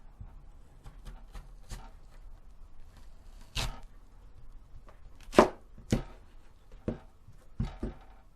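Radish is chopped on a cutting board for Korean beef soup, a knife striking in sparse, irregular thuds, a few sharper and louder cuts toward the end, close and alone without talk.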